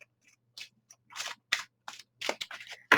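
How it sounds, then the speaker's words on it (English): A deck of tarot cards riffled and shuffled in several quick bursts of papery flutter, close by, with short pauses between each shuffle. "let's shuffle, shuffle, shuffle"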